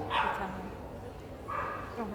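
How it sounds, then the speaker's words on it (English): A miniature Schnauzer gives two short bark bursts at a dog show's judging table, one near the start and one about halfway through, heard over steady indoor crowd murmur and nearby voices. "On the table now is the miniature Schnauzer"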